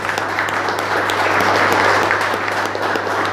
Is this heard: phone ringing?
no